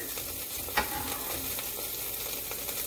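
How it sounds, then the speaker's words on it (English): Steady broadband sizzle of diced garlic frying in butter in a hot pan, with a brief clink of a utensil partway through; no talking. "I just diced my garlic, so I'm adding my garlic in there"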